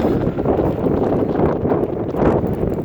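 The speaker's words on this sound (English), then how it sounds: "it's windy outside" Steady, rushing wind buffets the microphone outdoors in Albuquerque, New Mexico, a continuous low roar with gusty swells and no talking.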